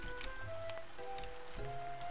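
Rain in a farming video game makes a soft, steady hiss, with gentle tonal background music and chimes drifting over it.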